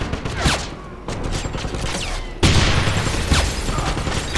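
Rapid bursts of gunfire from a weapon in the video game Wolfenstein, with sharp repeated shots and a heavier volley toward the end, loud and close.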